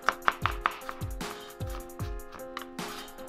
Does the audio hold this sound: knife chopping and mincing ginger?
yes